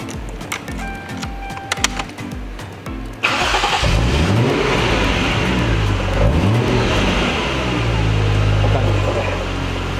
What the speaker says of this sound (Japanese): そしたらエンジン早速かけてみましょう。